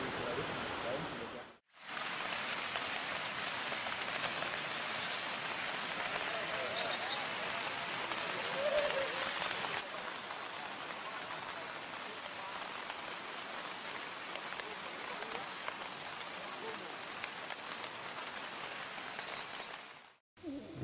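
Steady rain falls across the whole stretch during a flora and fauna field expedition in Gandang Dewata National Park, a dense, even hiss of drops on surfaces with no voices, briefly cut off near the start and end.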